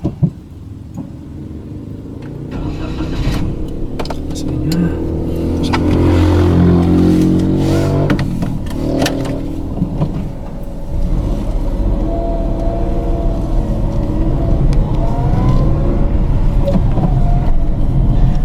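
A Daihatsu Ayla's small engine cranks and catches, revs briefly, then settles into a steady, close idle rumble that continues to the end.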